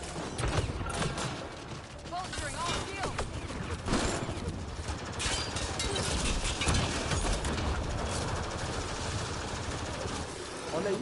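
Bursts of rapid gunfire and mechanical clatter from the game Mass Effect: Andromeda, continuous and busy, with a voice talking over it.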